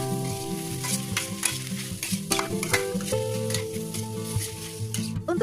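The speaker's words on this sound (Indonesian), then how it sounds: "Aduk-aduk lagi sampai daun bawangnya layu." Steady sizzling of meat and scallions frying in a pan with repeated scraping and stirring, and faint background music throughout.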